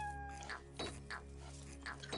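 Cat meows from the video game Children of the Nile, several short calls repeating over steady game background music.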